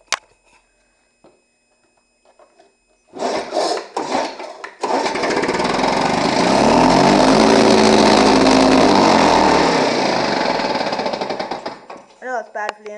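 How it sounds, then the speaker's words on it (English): A Lawn-Boy lawn mower engine sitting on a table takes a couple of sputtering start attempts, then catches and runs with a loud, rapid rattling putter for several seconds before cutting out. "Yeah, I might as well start up on the table."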